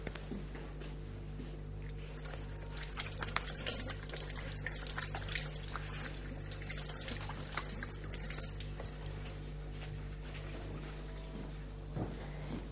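Water running from a kitchen tap as hands are washed under it, a steady close trickle and splash with small irregular drips over a constant low hum.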